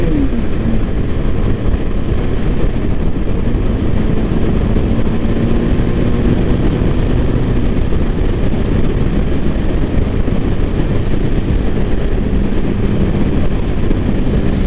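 A Royal Enfield motorcycle ridden on the road, its steady engine drone blending with heavy wind rush across the microphone, continuous and loud throughout.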